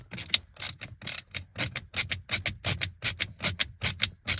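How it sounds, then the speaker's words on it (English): A Torx T16 screwdriver backs screws out of a VW Passat steering wheel, giving a rapid, rhythmic ratcheting click repeated about a dozen times, close and clear with no talk. "I'm gonna take out these 1, 2, 3 screws, and let's find out what size they are. I'm gonna use a T16 to remove these."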